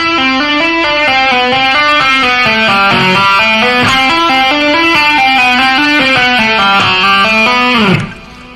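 A distorted electric guitar plays a slow legato rock lick: one picked note, then a smooth run of hammer-ons, pull-offs and first-finger slides. The notes are loud and sustained, with no one speaking, and the playing stops near the end.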